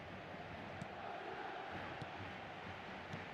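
A faint, steady stadium crowd roar from the eFootball soccer game, a continuous distant wash of voices with a few small swells and no clear individual sounds.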